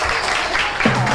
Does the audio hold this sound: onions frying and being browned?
no